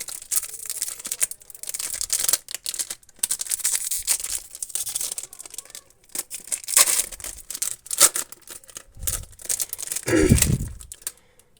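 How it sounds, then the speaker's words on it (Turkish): Japanese trading card packs are torn open by hand, with crinkly foil wrappers ripping and rustling in close, uneven bursts, then one longer tear near the end. "Şöyle başlayalım paketleri açmaya"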